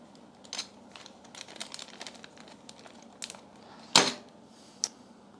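A small plastic bag of parts from an Ender 3 Pro extruder upgrade crinkles and rustles close by in scattered bursts, with one sharper crackle partway through and a final small rustle.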